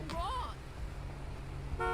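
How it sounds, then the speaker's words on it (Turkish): A car horn in modded GTA 5 toots briefly at the end, following a short burst of voice, over a low engine hum. "kornaya da basıyoruz"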